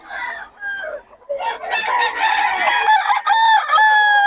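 Several roosters crow one after another at a gamecock sale, loud and close, with overlapping cock-a-doodle-doo calls and a few clucks in between.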